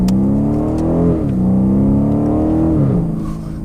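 A 2019 BMW M850i xDrive exhaust growls close up as the car accelerates from a parking lot. The engine note climbs steadily, dips briefly at shifts, and rises again in a smooth, loud surge.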